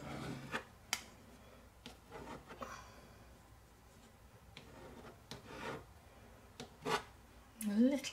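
Dry pastel or chalk rubbed onto black watercolour paper, a quiet scratchy friction in short strokes with small taps between them, close up and soft.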